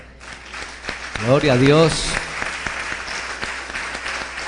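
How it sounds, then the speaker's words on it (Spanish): Congregation applauding at a Sunday church service broadcast on radio, a broad burst of clapping that runs under a man's spoken praise and then continues more thinly. "le enviamos un aplauso"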